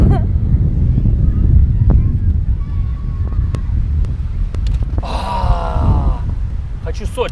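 Strong wind buffets the microphone with a constant low roar, while someone talks over it near the end.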